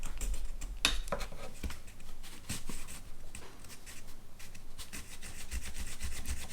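Scratchy rubbing strokes of a drill bit worked back and forth in a hole in a model ship go in an uneven rhythm, close up, with a few sharper scrapes.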